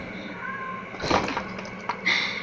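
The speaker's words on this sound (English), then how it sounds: "my cat has just entered the room." A cat meows a few times as it walks into a room, mid-level and somewhat muffled under a steady background hum, with a short scuffle in between.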